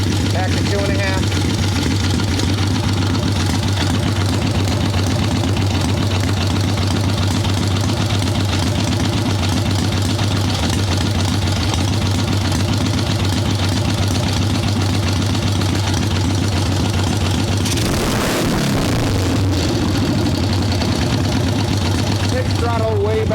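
A swap meet chopper motorcycle engine fitted with a Mikuni carburetor idles with a steady loud drone, close up, then briefly blips and settles near the end, with a voice speaking at times.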